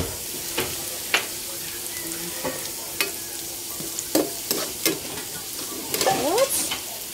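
Sweet and sour pork meatballs sizzle in a pan while a utensil stirs and scrapes them, with a steady frying hiss under intermittent close clinks and scrapes.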